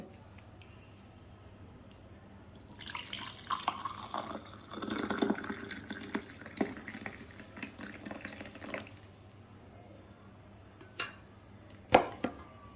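Freshly boiled sukku malli coffee, made with dried ginger and coriander, is strained and poured, giving a stretch of splashing liquid followed by scattered drips and a few sharp knocks, all nearby with no voices.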